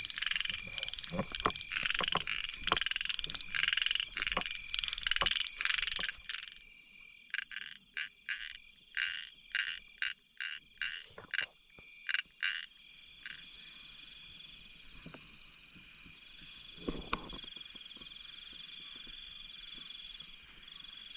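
Frogs croak in a forest at night, a dense chorus of rapid pulsing calls that thins into separate repeated croaks, with crickets and insects trilling steadily behind them.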